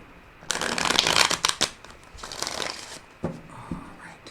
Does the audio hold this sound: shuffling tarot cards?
yes